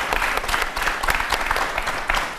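A studio audience claps for a guest named Jovan on a TV show, a dense, even burst of applause with no voices over it.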